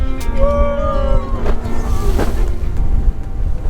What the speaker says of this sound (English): That is what you call a freak wave.